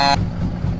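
A 2014 Peterbilt 386 truck horn in the game Truck Simulator USA gives one short, loud, brassy blast that cuts off abruptly, leaving a low engine rumble underneath.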